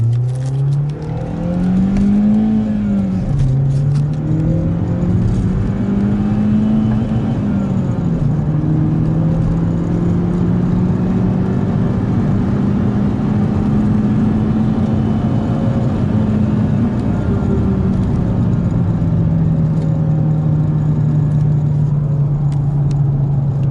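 A Mazda turbo car in sport mode accelerates hard, its engine note rising and falling through gears in a loud, continuous drone that fills the whole run, with no talk over it.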